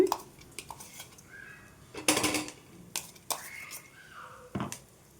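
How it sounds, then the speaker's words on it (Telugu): A spatula clatters and scrapes against a pan as garlic chili powder is stirred into a tempering of spices, giving irregular close metallic knocks and scrapes with soft murmured speech in places. "ఇప్పుడు ఈ మొత్తాన్ని కూడా మంచిగా కలిపేసుకుందాం అండి"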